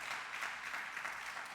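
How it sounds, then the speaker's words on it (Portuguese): A church congregation applauds during a sermon, a brief, even wash of many hands clapping at a distance, soft and continuous without any voice over it. "Dá um aplauso a Jesus por isso."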